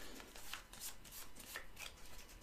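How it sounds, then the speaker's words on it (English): A deck of game cards is shuffled by hand, giving a soft, continuous papery riffling and flicking, quiet and close, with no voices. "shuffle them together"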